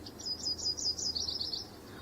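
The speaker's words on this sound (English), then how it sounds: "it will play a bird's song" Bird song played back through a bird song identification app: a rapid series of high, bright chirping trills running for about two seconds, alone over a faint low hum.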